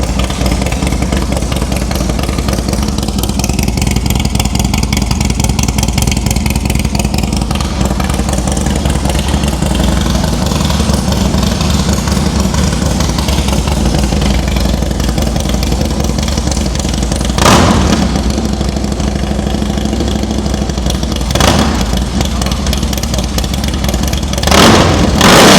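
Paul's motorcycle engine idles loudly and steadily close by for a long stretch, broken by a few short sharp blips near the end.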